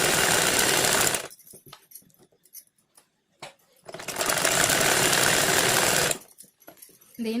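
A sewing machine stitches a chudidar top in two long, steady, loud runs separated by a quiet pause, then starts up again briefly at the end.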